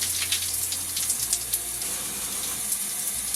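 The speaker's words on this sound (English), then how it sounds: "So now let me rinse." Steady running water from a tap or shower while hair is rinsed on wash day, a continuous hiss and splash heard close up and alone.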